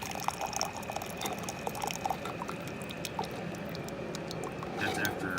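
Water drained from a used Keurig coffee maker is poured into a sink, a faint steady splashing and trickle with small drips, under a low background hum.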